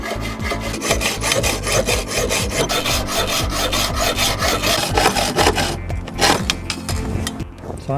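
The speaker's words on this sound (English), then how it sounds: "His next job is to cut a section of the threaded steel rod to the correct length" A hacksaw cuts through threaded steel rod in quick, regular back-and-forth strokes, a loud, close, gritty rasp that keeps going almost unbroken, with a brief change in tone near the end.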